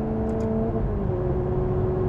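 Single-clutch automatic car accelerating hard with the throttle held wide open, a steady engine drone with rising tonal lines that dip and shift as the gearbox changes gear, loud and close throughout.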